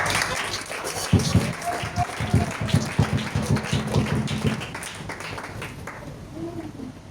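Church congregation applauding and cheering for Jesus, a burst of dense clapping from a crowd that swells and then gradually thins out.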